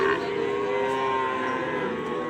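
Young Sahiwal and Gir calves moo in a long, steady, sustained call at a busy cattle market, the lowing close and loud over a faint background murmur.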